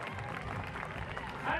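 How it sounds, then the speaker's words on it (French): Audience applause at a gymnastics and acrobatics competition in Montreux, steady crowd clapping through the whole short stretch, swelling slightly near the end, with a commentator's voice over it. "Alors, on applaudit."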